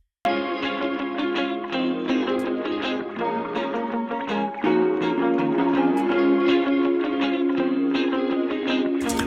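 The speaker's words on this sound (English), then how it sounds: "the distortion in the guitar comes across a little bit more" An electric guitar played through a distortion effects pedal, a dense, saturated chordal sound with ringing harmonics that holds steady, then shifts to a heavier, fuller tone halfway through.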